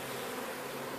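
Honeybees buzz near the entrance of a hive as they are loaded in, a steady low hum from many insects, soft and continuous with no voices.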